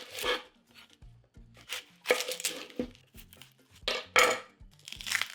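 An extra large red onion being cut for a roasted vegetable salad, heard as close knife strokes and crisp chopping crunches against a board, irregular and repeated throughout.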